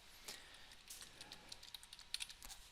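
Typing text on a computer keyboard while making a 3D road sign in SketchUp: a quick, irregular patter of light key clicks, close and faint, with no talk.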